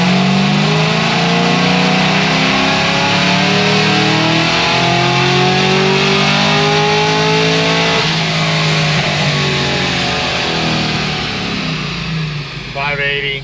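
A Cadillac CTS-V engine revs hard through a full dyno pull on pump gas, a loud sustained roar climbing steadily in pitch for the whole stretch, close by, then easing off at the end.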